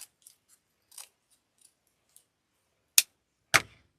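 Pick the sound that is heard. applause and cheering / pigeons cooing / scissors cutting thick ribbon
scissors cutting thick ribbon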